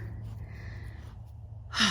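One heavy, sharp breath or gasp, close to the microphone, comes at the end after a quiet stretch of room noise.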